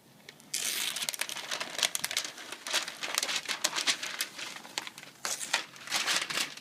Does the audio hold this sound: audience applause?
no